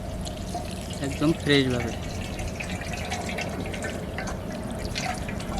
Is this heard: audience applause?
no